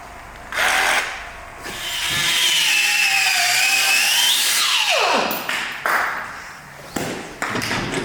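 A power saw fitted with a wood blade grinds against a hard bolt during suspension repair on a wrecked Bentley, its whine rising and straining over several seconds, then dropping off into intermittent short cuts and taps.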